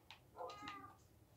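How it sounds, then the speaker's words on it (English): A pet cat meows indoors, two or three short faint mews close together over a quiet background. "I hear a cat."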